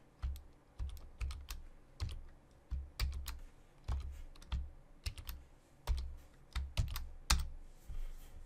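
Irregular clicking of keys on a computer keyboard as a password is typed in short bursts with brief pauses, close and fairly clear, no voices.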